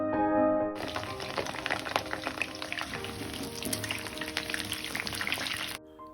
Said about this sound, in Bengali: এরপর আলুগুলিকে লাল লাল করে ভেজে নেব।